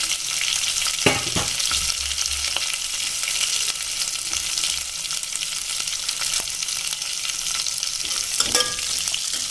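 Red chili powder and turmeric being stirred in a frying pan while making sambar, with a steady close sizzle of hot oil and a few sharp scraping clicks of the spoon against the pan.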